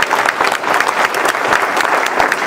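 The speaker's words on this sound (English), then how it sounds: "How about a round of applause for everybody who worked so hard tonight?" A large crowd at a Republican political rally applauds, dense and continuous clapping with scattered cheers, loud and sustained throughout.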